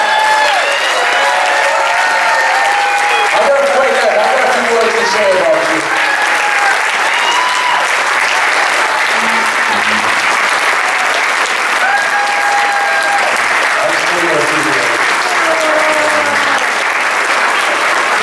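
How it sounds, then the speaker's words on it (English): An audience gives a sustained round of applause after a presentation, steady dense clapping throughout with someone speaking briefly over it. "Big round of applause"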